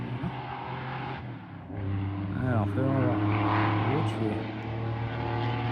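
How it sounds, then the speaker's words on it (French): An old Porsche engine runs nearby, a steady low drone that swells into revving with rising and falling whines, heard under someone speaking French. "Ça doit être une vieille Porsche, ça."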